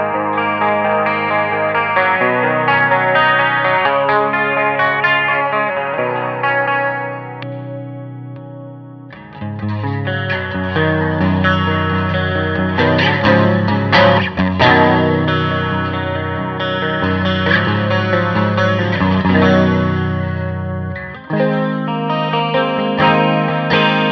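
Electric guitar through a Kemper Profiling Amp on a Splawn Nitro profile at zero gain, a clean tone with chorus-like modulation playing chords and melodic phrases continuously, loud and close, with no talking.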